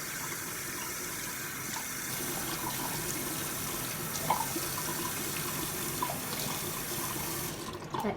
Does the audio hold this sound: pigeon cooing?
no